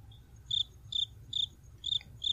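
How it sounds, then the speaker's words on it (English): Crickets chirp as an inserted sound effect: five evenly spaced, clear, high trilling bursts, close and alone over a faint low background hum. "Put a little sound of crickets right there in that gap."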